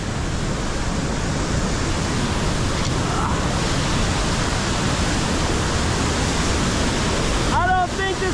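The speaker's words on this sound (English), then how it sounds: "Water just shooting out everywhere." Water blasting out of fully opened pipes, a loud, steady broadband rush that holds unbroken from start to finish, with a brief faint sound near the end.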